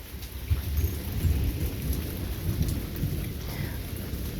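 A thunderstorm with steady rain pattering on the ground and low rolling rumbles of thunder, continuous and fairly loud, with no voices.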